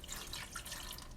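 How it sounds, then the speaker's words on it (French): Tap water runs into a pot of 600 grams of washed potatoes as a faint, steady, splashing trickle, with no voices. "je vais mettre de l'eau"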